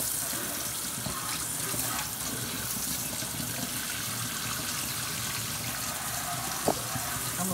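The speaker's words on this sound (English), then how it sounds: "So what I'm going to do is I am going to rinse my sink out." Tap water runs steadily into a kitchen sink as it is rinsed out, a continuous splashing gush at moderate level with a single brief clink near the end.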